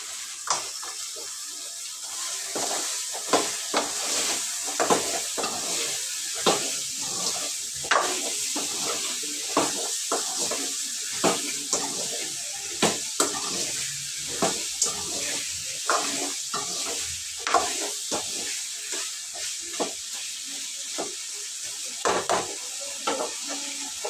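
Washed potatoes hitting a hot pan for a potato curry, sizzling and frying steadily with frequent stirring clatter and scraping, close and busy throughout, no talking.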